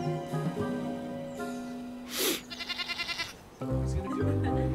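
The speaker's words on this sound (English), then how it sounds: "Would you take a goat?" In a farmyard scene from a romance drama, a goat bleats a few times over background music and ambient noise. The bleats are short, nasal and fairly close.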